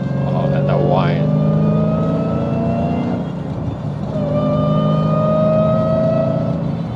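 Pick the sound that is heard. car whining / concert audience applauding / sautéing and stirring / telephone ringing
car whining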